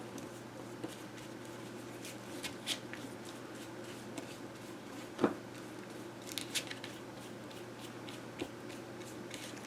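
Scissors cutting paper for a collage art album, with soft repeated snips and rustles under a steady background hum and one sharper click midway.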